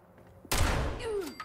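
Gunfire in the video game Fallout 76: a single sudden, loud blast with a rumbling tail that decays over about a second.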